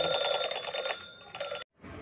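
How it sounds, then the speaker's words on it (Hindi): A bedside alarm clock rings indoors with a loud, close, rapid electronic beeping in bursts that stop briefly and then start again. "घड़ी में अलार्म सेट था"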